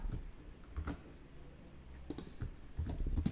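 Computer keyboard shortcut presses during Java programming work, a few soft scattered clicks and key taps at close range, quiet with no talking.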